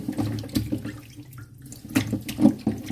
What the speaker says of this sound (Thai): ล้างเข้าไปด้านในด้านนอก